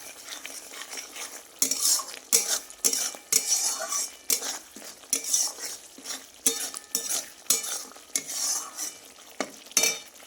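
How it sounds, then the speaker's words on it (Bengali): Spice paste fries in a pan for a small-fish dish with onion greens, a soft sizzle under repeated scraping and clinking of a metal spoon stirring against the pan in a steady rhythm, with no talk. "তো এখানে দেখো মশলাটা এখন ভাজছি, ভাজা হয়নি পুরোপুরি"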